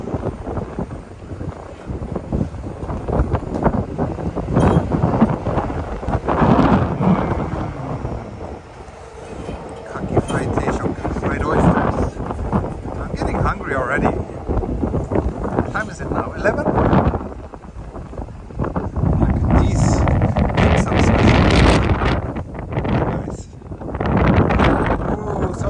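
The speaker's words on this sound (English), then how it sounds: "Windy here." Wind buffeting a microphone outdoors on a city walk in Tokyo, a loud, continuous rumble that swells in gusts throughout, with people talking under it.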